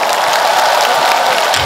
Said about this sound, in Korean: 지금부터 제가 이렇게 하면 박수와 함성을 보내주실 겁니다